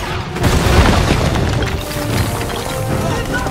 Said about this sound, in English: Just call it an airstrike!